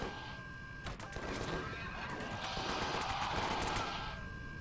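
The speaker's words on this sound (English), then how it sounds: "We'll shoot the bad guy there." In the game Empyrion Galactic Survival, gunfire aimed at an enemy comes as a dense, continuous rattle of rapid shots over a steady tonal hum, loud and sustained with sharp cracks near the start.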